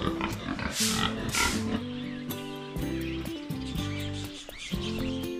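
Pigs on a farm grunt and squeal in a busy pen, several overlapping calls close by, loud and continuous, with chirping birds in the background.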